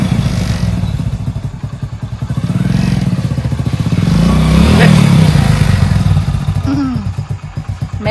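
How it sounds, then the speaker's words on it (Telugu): A motorcycle revs slowly as its clutch is eased out, the engine chugging loud and close with a low rhythmic throb that swells in the middle. A voice speaks briefly near the end. "వేరు పడకపోతే క్లచ్ వదులుతూ మెల్లగా రేస్ చేయాలి."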